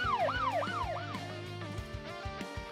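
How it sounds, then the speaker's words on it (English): A police siren wails in Goddess of Victory: NIKKE, a rising and falling electronic tone repeating several times, loud at first and then giving way to quieter car and traffic noise. "A siren draws closer."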